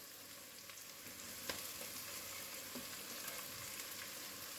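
Mixed vegetables with onion and green chili sauté on a high flame for chicken chow mein, giving a soft, steady, continuous sizzle with a few faint ticks and no voices.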